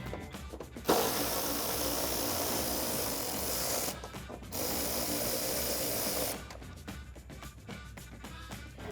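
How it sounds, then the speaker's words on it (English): Rapid mechanical clicking of a ratchet with a 10mm socket removing a headlight retainer bolt on a 2016-2021 Toyota Tacoma, in bursts separated by brief pauses, close and steady. "I'm going to take a 10mm socket and go ahead and remove that."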